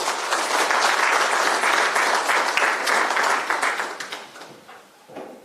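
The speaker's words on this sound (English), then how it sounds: "A big round of applause for Honorable Minister." Loud, dense applause from a crowd at a government launch event, welcoming a minister, sustained for several seconds and then tapering off.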